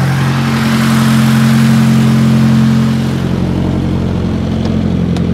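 A car engine idles steadily after a throttle body repair, the idle running somewhat high with a smooth, even hum close by and no talking.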